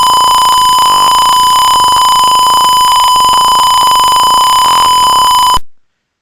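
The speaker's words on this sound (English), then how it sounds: "So the buzzer is making that noise." An Arduino buzzer set off by a PIR motion sensor beeps loudly and steadily in a fast repeating pattern at close range, then cuts off abruptly.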